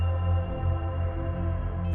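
An ambient, processed wash made from NAMM trade show noise, a steady, dense drone with smeared tones and no clear individual sounds, holding at an even level throughout.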